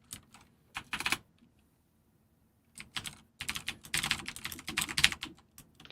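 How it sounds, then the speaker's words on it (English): Bursts of clattering computer keyboard typing, close and fairly loud, come in irregular flurries separated by short pauses, with a longer stretch of steady keystrokes toward the end. "Stop fucking typing!"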